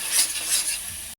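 Bowl-rinsing water meets a hot pan of ginger, garlic, green chilli and tomato paste in a Bengali home kitchen, giving a short close burst of sizzle and stirring before it cuts off abruptly.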